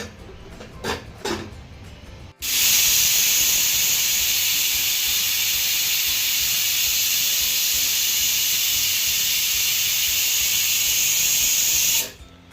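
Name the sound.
pressure cooker whistle while boiling chickpeas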